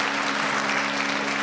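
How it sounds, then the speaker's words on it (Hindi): Audience applause at a ceremony, a brief, steady wash of clapping with a faint constant hum underneath. "आपकी ढेर सारी खूबसूरत तालियां"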